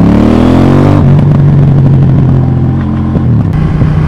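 A KTM Duke 790 motorcycle engine rumbles loudly up close, its deep throb rising and then settling into a steady, slightly uneven idle-like drone.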